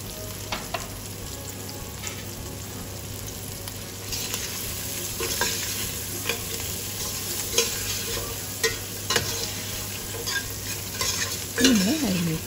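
Chopped vegetables frying in a pan while being stirred, a steady close sizzle with repeated scraping strokes that grow busier toward the end, and no talking.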